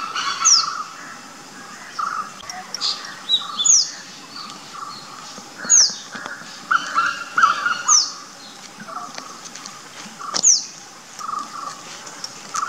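Southern hill myna (Gracula indica) calling: a series of sharp, whistled notes about every two seconds, fairly close and clear over a soft outdoor background of other faint chirps.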